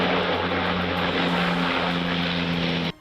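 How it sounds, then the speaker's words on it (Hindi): Propeller-driven firefighting aircraft sent by Italy to help fight wildfires in Greece, a loud, steady engine drone with a constant low hum that cuts off abruptly near the end. "इटली ने भी मदद करते हुए 2 विमानों को आग बुझाने के लिए"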